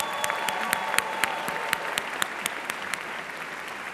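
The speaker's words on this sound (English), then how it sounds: "Let's give an enormous round of applause to our sponsor for supplemental and consolation events, Gaynor Newman" Audience applause at a national awards ceremony: a steady patter of clapping with sharp individual claps standing out, sustained at moderate loudness for several seconds with no talk.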